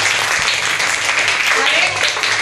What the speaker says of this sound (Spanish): Un aplauso para Rafael.